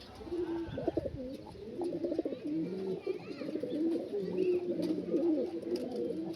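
Pigeons coo repeatedly in a steady, overlapping chorus, close and fairly loud, with throaty rolling calls following one another throughout and no talking.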